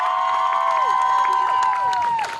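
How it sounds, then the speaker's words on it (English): Audience applause at a high school graduation ceremony in Linden, a steady crowd clapping and cheering that fills the whole stretch, with a bright sustained tone running beneath it. "Students, you may stay seated as we applaud each organization."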